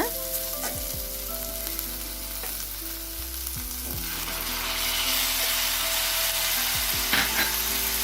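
Curry leaves, chili and tomato fry in hot oil for a potato masala curry, a steady close sizzle with occasional stirring scrapes of a spoon against the pan and a few higher crackles.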